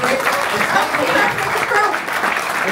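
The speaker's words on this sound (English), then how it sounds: "give Levy another round of applause" An audience at a live chess event in Hamburg gives a round of applause, dense continuous clapping from a sizeable crowd, loud and close, sustained throughout with faint voices mixed in.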